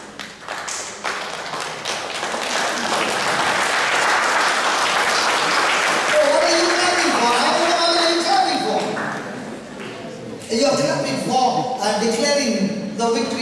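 Applause from a church congregation at a religious gathering in Dubai, loud and sustained for several seconds, with voices and music rising in the latter half.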